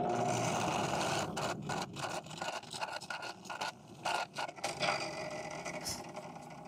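Titanium folding knife scale being drilled for 2-56 screw holes, a steady machine whir with intermittent scraping and cutting bursts, broken by short pauses as the bit engages and lifts.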